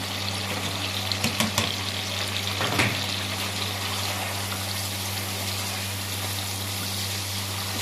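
Chicken with onion, ginger-garlic paste, salt, black pepper, coriander and crushed cumin fries in a karahi as a dense, continuous sizzle, with a few stirring scrapes early on, close and without talk.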